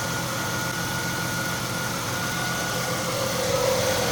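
A 1995 Ford Mustang engine idling after sitting for fifteen years, with a slightly worn pump bearing, producing a steady close mechanical drone and hum that stays even throughout with no talking.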